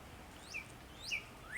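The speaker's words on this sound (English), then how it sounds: "That's a cardinal or red bird." A northern cardinal sings from a treetop, giving three short, clear rising whistled notes spaced about half a second apart, faint and somewhat distant over quiet background noise.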